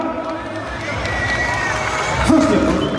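A crowd at an arm-wrestling tournament cheers and shouts, a dense, continuous swell of voices that grows slightly louder toward the end, with an announcer's voice over it.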